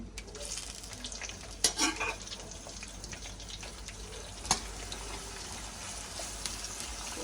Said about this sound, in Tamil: இங்கால கத்திரிக்காய் பொரிஞ்சு கொண்டு வருது